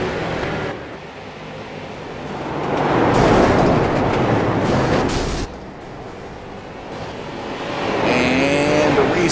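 Street stock race cars roar back to speed on a restart at a speedway, a dense loud engine drone swelling as the pack passes, then easing and rising again, with tire squeal near the end.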